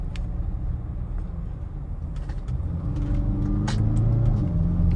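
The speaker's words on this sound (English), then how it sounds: "I think this is a diesel," A Range Rover Velar diesel engine drives at night with a low steady rumble. The engine swells slightly as it pulls harder toward the end, and brief clicks and ticks sound inside the cabin.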